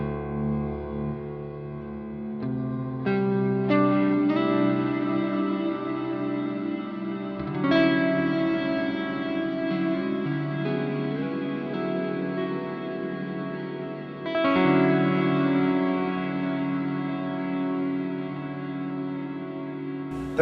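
An electric guitar plays through an Earthquaker Devices Afterneath reverb pedal set to Diffuse, sustained chords blooming into a wide, smeared wash of reverb with long decaying tails, loud and up close with no talking.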